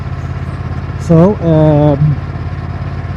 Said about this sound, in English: let's see how it is idling